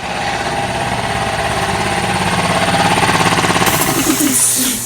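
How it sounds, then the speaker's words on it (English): An air compressor in a workshop runs loudly and continuously, a close rough mechanical pounding drone with a fast pulsing rhythm that holds steady throughout. "damn air compressor doesn't shut off"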